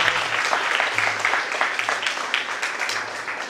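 Audience applause at a children's value-education program held at a Ramakrishna Math, with steady, dense clapping throughout and a low hum beneath.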